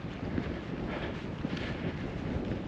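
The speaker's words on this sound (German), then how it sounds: "Aber jetzt pfeift doch ein etwas stärkerer Wind hier." Strong wind gusting across a mountain ridge on a hike to the Lachenspitze in the Tannheimer Tal, a steady broadband roar buffeting the microphone throughout with no voices.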